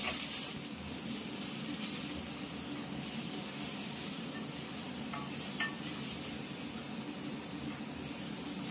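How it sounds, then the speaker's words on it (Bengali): Chopped ginger and ground chilli sizzling and frying in a pan, a steady continuous hiss that stays fairly even throughout with no talk over it. "এবার এগুলোকে ভালো করে আগে ফ্রাই করে নিতে হবে"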